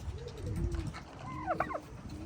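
A tame turkey gobbles nearby on a farm, a quick warbling burst of rattling calls, with faint low background noise.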